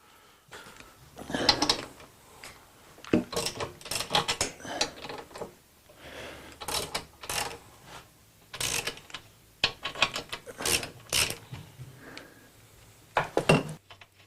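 Repeated clicking bursts of a 10mm spanner ratcheting on a Yamaha XS1100 motorcycle part during a fault-finding strip-down, coming in irregular spells with brief pauses between, close and fairly quiet with no talk.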